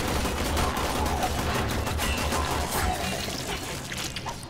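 Rapid machine-gun fire from robots in a free-to-play PC shooter game: a dense, continuous crackle of shots and small blasts, loud and unbroken for a few seconds, thinning slightly toward the end.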